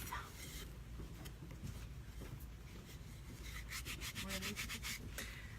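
A sponge sander roughs up the edges of a wooden piece for an image transfer craft, giving a steady soft rubbing and scraping with quicker strokes near the end, heard under background talk.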